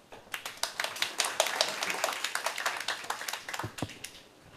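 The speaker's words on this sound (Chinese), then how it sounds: "请大家掌声欢迎" An audience at an open-source conference talk on autonomous driving software claps to welcome the speakers, a dense patter of many hands that swells, then thins out to a few last claps.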